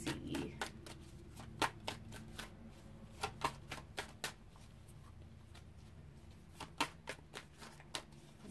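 Tarot cards shuffled by hand, producing sharp irregular slaps and soft riffles, close but quiet, with pauses between clusters and no talking.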